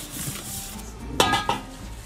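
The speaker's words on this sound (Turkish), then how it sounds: "Kek kalıbımızı alıyorum. Ee, zeytinyağı veya margarinle iyice yağlıyoruz." A metal cake pan is picked up and set down with a couple of sharp clanks amid soft kitchen handling before it is greased with olive oil for a savory corn flour cake, nearby and without speech.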